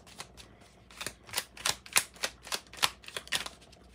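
A fairy oracle deck is shuffled by hand, giving a run of soft, crisp card riffles and snaps in an irregular rhythm, close and fairly quiet with no talking.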